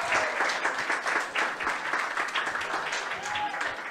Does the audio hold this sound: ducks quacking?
no